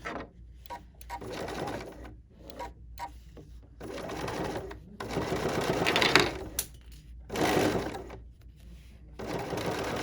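A sewing machine stitches in short bursts with a needle-down function, each run of rapid whirring separated by brief pauses, close and moderately loud, with no talk.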